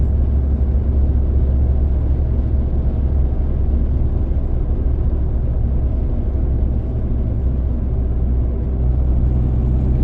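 A 2012 Ford Fiesta 1.4 TDCi diesel, 70 PS, cruising in fifth gear at around 80–85 km/h and 2000 rpm. Its engine gives a steady, loud, low cabin drone with road rumble that holds evenly throughout.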